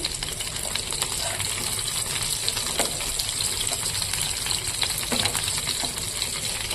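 Fish frying in a pan on a home kitchen stove, a loud steady sizzle and spatter with scattered crackles, continuous and close throughout.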